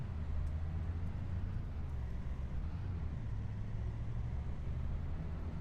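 A tractor engine in Farming Simulator 25 drones at a low, steady pitch, a faint continuous rumble with no pauses and no voices.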